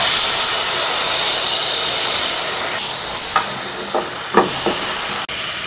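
Cardamom seeds and dried dates sizzle in about a tablespoon of desi ghee for sheer khurma, a steady loud hiss that runs throughout with a few soft clinks near the end.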